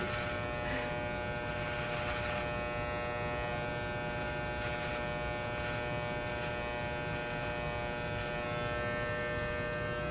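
An electric shaver trims a man's mustache, giving off a loud, constant close-up buzz that runs without a break and rises now and then as it moves against the hair.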